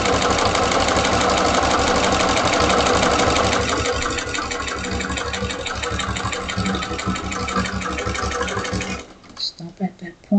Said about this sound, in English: lower my needle down, pick up my presser foot, make sure everything's all lined up, sew 1/4 of an inch all the way around